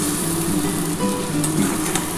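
Frying in a pan while making a Bengali egg curry gives a steady, close sizzle that stays even throughout, with no speech over it.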